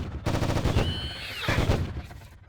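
Rapid bursts of gunfire from the video game Anarchy Online crackle in quick rhythmic volleys, loud and close, with a brief synthetic whine between the strings of shots.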